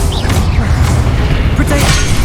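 A Confringo explosive spell bursts in a Hogwarts Legacy duel among statues, a muffled boom in a dense, noisy battle mix with other spell effects crackling around it.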